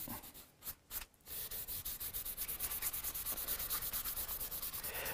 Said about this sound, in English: This is also where I'm going to discover issues with sanding, if there are any.